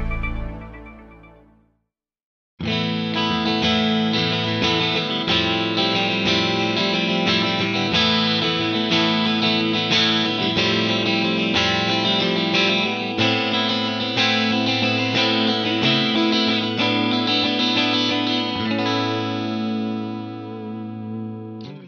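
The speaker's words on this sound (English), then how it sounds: "that kind of chorusing sound you're hearing" A clean electric guitar through a Soldano Astro 20 amplifier plays sustained chords and ringing notes with a shimmering, swirling chorus effect, loud and continuous after a brief pause at the start.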